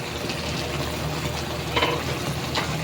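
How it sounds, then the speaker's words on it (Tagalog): Paksiw na bugiw, a Filipino sour fish stew, bubbling in a pot: a steady, dense seething and sizzling wash with faint pops rising throughout. "Yun, oh, kumukulo na agad, oh"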